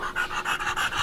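A French bulldog recovering from airway surgery breathes in quick, rhythmic snorting pants, about six loud, close breaths in a row.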